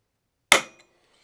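One sharp metallic hammer strike staking a torqued clutch nut on an R7 turbo engine build, ringing out briefly, with a faint tick just after; no talk.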